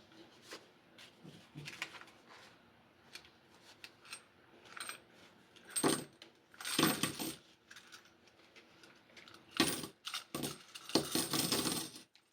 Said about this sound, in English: we can dump all the coins out.